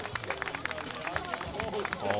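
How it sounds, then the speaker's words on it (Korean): An audience applauds a double gold-medal winner in the rubber-powered model aircraft category at an air leisure festival. Steady crowd clapping sits beneath an announcer's voice and general crowd murmur. "여러분 더 큰 박수 부탁드립니다"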